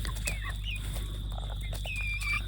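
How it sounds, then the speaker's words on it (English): Backyard chickens in an orchard make soft clucks and squawks over a constant low hum, with a few brief calls standing out faintly. "One thing the chooks do love is figs."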